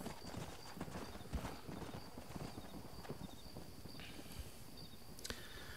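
Horse hooves clip-clop steadily in the Red Dead Redemption game, a soft, even rhythm of footfalls with a faint whinny-like cue, all fairly quiet against a light ambient bed.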